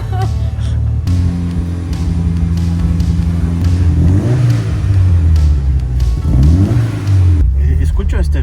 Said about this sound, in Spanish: ¿Escucho este ruido? ¿Escucho? Esto es embriague de carrera.